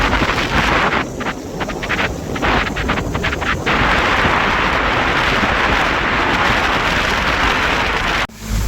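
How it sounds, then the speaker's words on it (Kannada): A dense, roaring wash of heavy rain and wind noise in Hyderabad fills the air continuously, with a rumbling low end, until it cuts off abruptly near the end. "ಹೈದ್ರಾಬಾದ್ ಬಂದೆ ಫುಲ್ಲು ಮಳೆ ಗುರು ಇಲ್ಲಿ"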